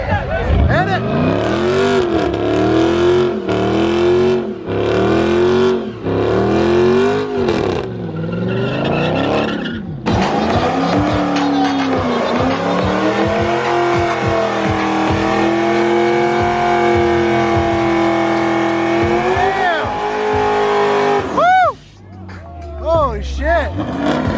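A Pontiac G8 revs hard and accelerates at a car show, its engine roaring loud and close in repeated rising bursts before a long sustained pull, with people shouting and cheering over it.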